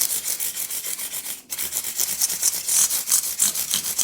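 800 grit sandpaper, held by the fingers without a block, rubs over bass guitar frets in quick, even back-and-forth strokes, a close, raspy scratching with a brief pause partway through.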